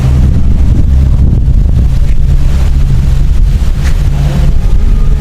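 Strong wind gusts roar steadily against the microphone for several seconds, a loud continuous rumbling rush with no speech.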